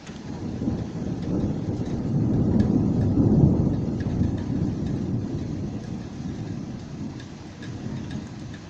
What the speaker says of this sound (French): Orage exceptionnel quand même